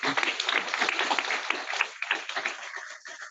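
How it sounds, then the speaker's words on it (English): Short burst of clapping from a town hall audience, close and moderately loud, fading out after about three seconds. "So just a quick round of applause for that."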